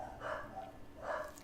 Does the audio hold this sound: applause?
no